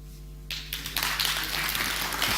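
Applause from an audience at a TechEd New Zealand 2013 tech talk on Node.js, a steady wash of clapping that starts abruptly after a short lull and continues evenly to the end.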